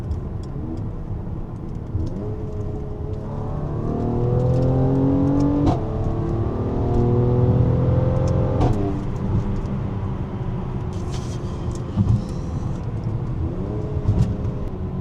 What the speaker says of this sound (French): je vais vous donner une petite accélération. On va passer en Sport Plus. Écoutez.